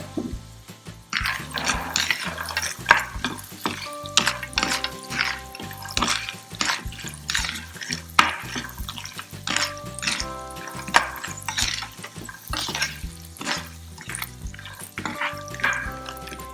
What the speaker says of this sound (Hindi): अब हम इसमें फ्राई किए हुए सिंगदाने और ड्राई फ्रूट ऐड करके अच्छा सा मिक्स कर लेंगे।